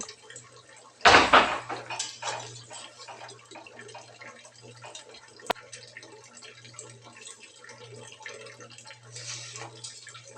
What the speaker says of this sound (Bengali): এদিকে আমি জলটা দিয়ে দিচ্ছি